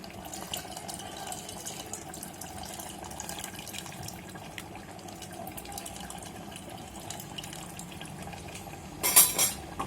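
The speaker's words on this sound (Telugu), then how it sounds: "చింతపండు వాటర్ తీసుకున్నాను కదా, అది వేస్తున్నాను నేను." Tamarind water splashes and trickles into a pan amid kitchen clatter, with a brief louder splash near the end; steady moderate background noise throughout.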